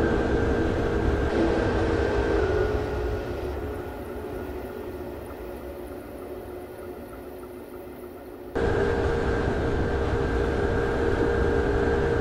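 An S-Bahn commuter train departs from the new airport station, a steady broad rushing roar with a humming tone that dips quieter midway, then surges back abruptly, with no talking.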